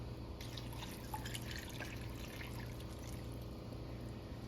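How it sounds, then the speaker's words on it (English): Water pours steadily into a pot of elk vegetable soup, a soft continuous trickling and splashing with a low kitchen hum beneath it. "So then we'll add the 3 cups of water."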